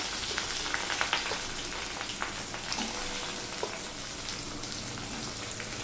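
Onion hits a pan of frying garlic, making a dense, even sizzle up close, with small pops and crackles throughout.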